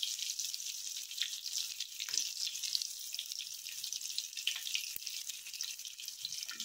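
Rava-coated bangda mackerel pan-fries on low gas after being flipped, a faint, even hiss of sizzling oil running steadily throughout with no voices.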